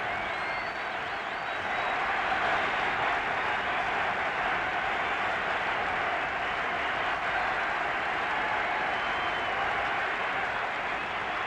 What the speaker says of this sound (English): the crowd rapturous in their welcome